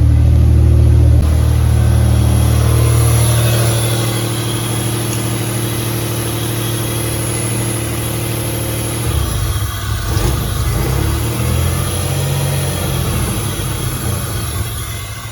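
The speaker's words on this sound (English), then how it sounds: "Right when I plug it in, car dies." A Toyota Celica's engine runs loud and steady, then the idle sags and roughens as the mass airflow sensor is plugged back in, stumbling unevenly as the car dies.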